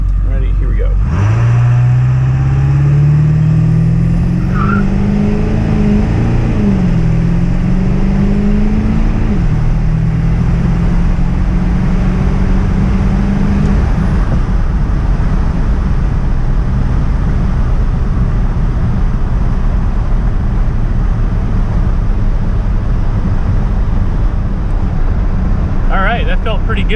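A car accelerates hard from a standstill to 60 in four-wheel drive, its engine loud and close as it climbs through gear shifts, then settles into a steady roar of road and wind noise.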